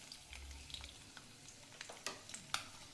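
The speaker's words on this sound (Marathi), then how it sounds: "लसूण तेलामध्ये भाजून घ्यायचंय." Garlic fries in hot oil in a pan with a soft, quiet sizzle, broken by light scattered stirring clicks that grow a little more frequent toward the end.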